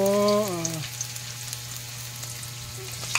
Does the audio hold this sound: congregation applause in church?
no